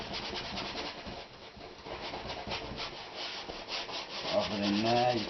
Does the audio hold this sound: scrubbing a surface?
yes